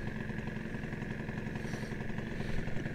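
A restored Suzuki motorcycle engine idles steadily, a low continuous rumble with an even mechanical patter and no revving, heard alone at moderate distance.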